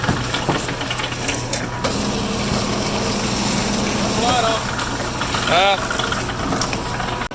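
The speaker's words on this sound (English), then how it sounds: "we run through the smasher to break that apart so we can peel it" Cable smasher machine running to break apart copper tray cable, a loud continuous mechanical engine drone with vibrating knocks, close up and under ongoing talk throughout.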